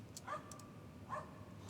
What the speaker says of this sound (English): I have this sample of Vera barking